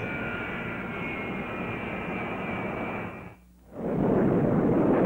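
FJ-2 jet fighter engine roars steadily and loudly, cuts out almost completely for a brief moment, then returns even stronger.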